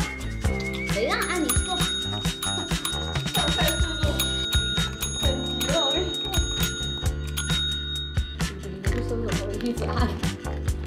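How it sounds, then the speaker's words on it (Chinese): A small bell used for training a cat rings in repeated bright, sharp jingles, mixed with voices and other busy indoor sounds. "这是我们家白老师训练用的铃铛。"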